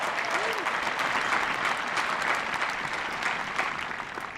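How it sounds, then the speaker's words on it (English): A large crowd at the University of Virginia Class of 2021 graduation exercises claps steadily and densely for the Army band and ROTC color guard, a sustained wash of applause with no pause. "Please join me in a round of applause for them, as well as for the members of the Army ROTC who presented the colors."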